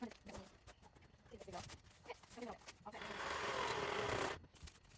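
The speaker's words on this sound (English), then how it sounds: "I got my Sawzall out and used a metal blade to cut down the edge of the tabletop" Sawzall fitted with a metal blade cutting down the edge of a garden workbench tabletop, a harsh sustained buzz lasting about a second and a half after some quieter knocks and handling.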